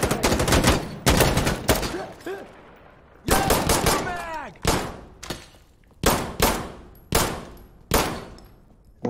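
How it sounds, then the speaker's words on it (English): Loud gunfire from the video game Insurgency Sandstorm: sharp reverberant shots and short bursts at a steady, spaced rhythm, with echoing tails and clinks, while players talk over parts of it. "What are you shooting at,"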